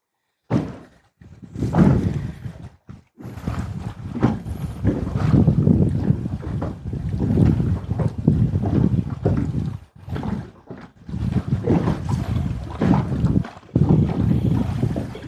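Gusty wind buffets close to the microphone in loud rumbling bursts, broken by a few short pauses and an occasional thump, on a windy day while fishing for crappie.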